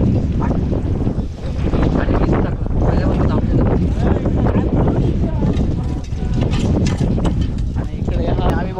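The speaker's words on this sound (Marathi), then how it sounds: "आणि खूप वारा आहे इथे" Strong wind roars and buffets the microphone continuously at a seaside fort, a loud, dense rush with gusting swells and no clear pauses.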